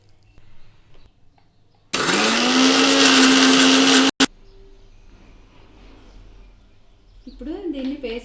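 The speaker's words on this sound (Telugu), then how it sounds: "కొత్తిమీర, పుదీనా, గ్రీన్ లీవ్స్ ఈ మూడింటిని గ్రీన్ చిల్లీస్ ఈ మూడింటిని పేస్ట్ చేసి పెట్టుకుందాం" Kitchen mixer grinder whirring loudly and steadily for about two seconds while grinding coriander, mint and green chillies into paste for mutton dum biryani, then cutting off abruptly; a quieter sound follows.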